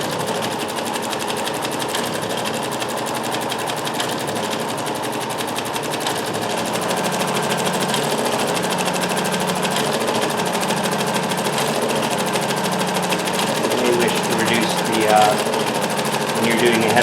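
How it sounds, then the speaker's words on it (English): A Dressmaker 2402 sewing machine stitching continuously, a loud, fast, even mechanical chatter of the needle running close up without pause. "So that's what we're here to do, to show you this machine will sew"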